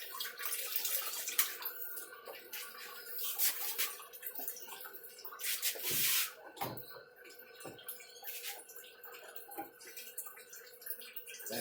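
Water runs from a hose into storage tanks with a continuous splashing rush and a few louder gushes, heard close while someone talks intermittently.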